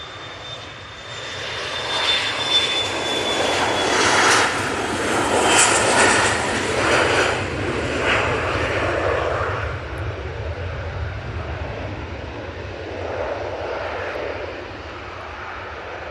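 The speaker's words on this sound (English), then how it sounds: "this Bombardier Challenger 350 is off to Palma de Mallorca" Bombardier Challenger 350 business jet taking off, a close, loud engine roar with a descending high whine that builds to a peak and then fades into a steady distant rumble as it climbs away.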